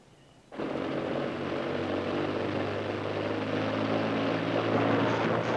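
A WWII-era aircraft taxiing before take-off, its engines cutting in abruptly after a quiet start and then holding a loud, steady, close droning roar with no talk.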